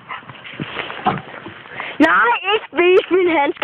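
Cody, a black poodle, whines in a few rising, sliding whimpers that follow some close talking. Then comes a brief pause and another drawn-out whimper.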